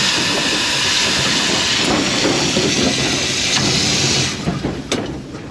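Steam hisses loudly and continuously from the injector valve of a steam locomotive on a tunnel tourist railway, a dense close roar that eases near the end with a few clanks.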